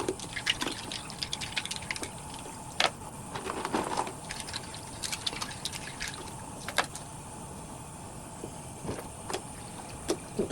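Quiet trickling and splashing water with small drips and sloshes, steady and close, no voices.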